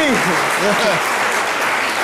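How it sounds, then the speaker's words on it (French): Studio audience applause for Jimmy Danger on a French television programme, a brief, even wash of clapping under a talking voice throughout. "je pense que les applaudissements sont faibles quand même pour Jimmy Danger"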